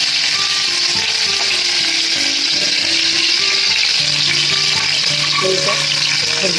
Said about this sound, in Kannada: ಎಲ್ಲಾ ಚೆನ್ನಾಗಿ ಫ್ರೈ ಮಾಡಬೇಕು